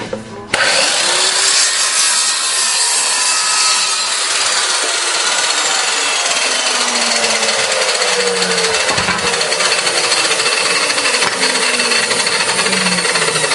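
A power saw cuts through the side of a wooden box with a loud, continuous, harsh whine that runs steadily for several seconds without pause.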